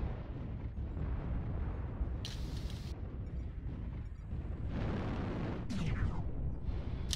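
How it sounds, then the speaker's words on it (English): Missile explosions in MechWarrior Online rumble as a dense, continuous barrage of heavy booms and bursts, with a few sharp blasts standing out near the middle and end. "Warning, incoming missile. Warning, incoming missile."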